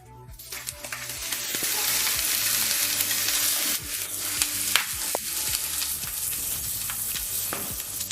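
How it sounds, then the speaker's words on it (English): Carrot pieces sizzle steadily in hot oil in a frying pan for a Japanese chicken and egg fried rice, with scattered stirring clinks and scrapes from a utensil. The sizzle is close and continuous, and there is no talk. "Lightly fry the carrot."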